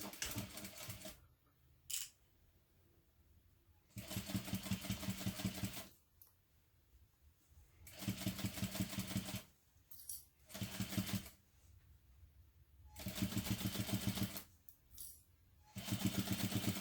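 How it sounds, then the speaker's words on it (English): Sewing machine top stitching along the folded edge of a large pocket, running in repeated bursts of steady rapid needle chatter about two seconds long, separated by short pauses with faint handling clicks. "now I'm just going to top stitch that closed right along the folded edge using a 1/8 inch seam allowance"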